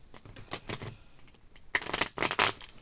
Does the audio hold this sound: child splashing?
no